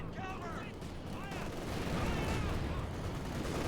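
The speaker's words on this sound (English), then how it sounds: "Mortars getting a bit further forward, bombarding here." Mortar bombardment in Company of Heroes 2 during a match: a steady, dense rumble of distant explosions and gunfire under continuous game noise, with a commentator speaking over it.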